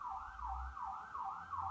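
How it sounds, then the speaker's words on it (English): An emergency vehicle siren passes outside a home, its rising and falling wail repeating in a steady cycle, moderately distant with a low traffic rumble beneath. "our siren is flying past the gaff"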